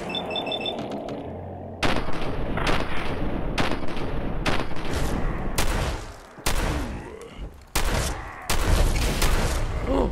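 Heavy gunfire and grenade blasts in Fallout 4: Far Harbor combat, a dense stream of loud shots broken by several sharp explosive bursts in quick succession.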